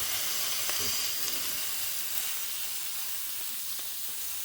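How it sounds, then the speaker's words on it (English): Pork belly for Japanese kakuni sizzles steadily in hot oil in a pan, a continuous bright frying hiss with occasional soft pops, close and alone with no talking. "you can hear the pork cooking on the other side"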